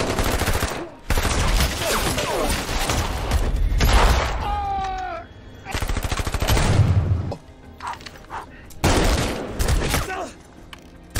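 Special forces and cartel gunmen trade fire in an action film: loud bursts of rapid automatic gunfire come in several separate volleys, split by brief gaps.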